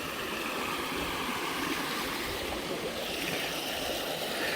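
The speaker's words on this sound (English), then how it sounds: "the water's running good, but just not that deep" Creek water runs steadily at a campsite in South Mountains State Park, North Carolina, a constant broadband rushing that stays even and fairly close throughout with no voices over it.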